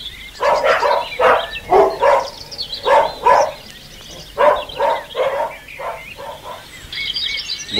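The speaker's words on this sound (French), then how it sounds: "Bonjour, je suis le chien." A farm dog barks in a string of quick, close, loud woofs, grouped in bursts with short gaps between them.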